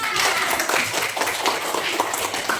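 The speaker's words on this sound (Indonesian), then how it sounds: "Coba beri tepuk tangan buat Katinya." Students in a classroom clap their hands together, a brisk, moderately loud patter of many claps lasting a few seconds, with some voices mixed in.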